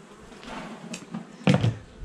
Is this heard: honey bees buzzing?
yes